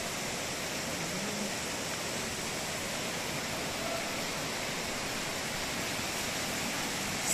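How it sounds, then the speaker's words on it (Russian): Heavy rain pours outside a city apartment balcony in Antalya, Turkey, forming a dense, unbroken hiss that stays loud and steady throughout with no voices. "Какой сильный дождь пошел."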